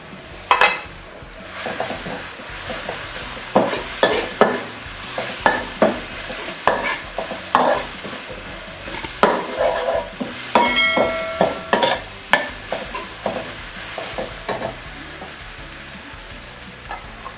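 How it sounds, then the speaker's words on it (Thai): Chilies sizzle and fry in a hot pan while a utensil stirs and scrapes them in irregular bursts, with no talking. "เราจะผัดให้พริกมีกลิ่นหอมก่อนนะคะ"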